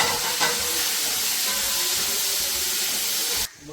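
A pressure cooker on the stove vents steam in a loud, steady hiss that runs continuously and cuts off sharply near the end, while mutton curry cooks inside.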